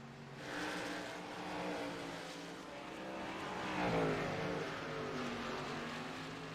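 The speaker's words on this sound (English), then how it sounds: "As Worrell is powering that car along." A race car engine in the iRacing sim at World Wide Technology Raceway, on old tyres and pushing to catch the cars ahead, holds a steady droning note that swells and rises in pitch, faint and without speech.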